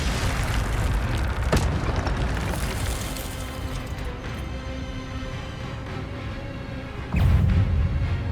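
An Incendio fire spell is cast in Hogwarts Legacy on PS5: a sustained roaring, whooshing rumble of flame runs throughout, a brief crackle bursts out early on, and a heavier, booming surge comes near the end.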